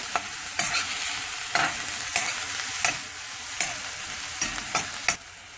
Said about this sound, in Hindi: एसेफोइटिडा, प्याज हम सौते करेंगे।